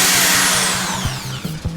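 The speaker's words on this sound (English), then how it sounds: "I'm going to have to drill into that brick siding." A hammer drill bores into brick siding, a loud close whirring grind that drops in pitch as it winds down, with a few knocks near the end.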